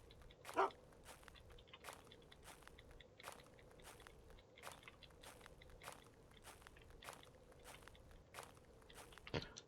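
A dog eats in the survival video game UnReal World, with soft, regularly spaced crunchy bites repeating over several seconds, faint and close.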